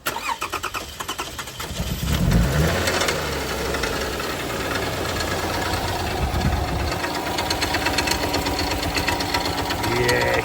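A long-dormant Toyota Kluger engine cranks and catches, then runs rough and uneven at a loud, steady idle with a knocking, ragged rhythm.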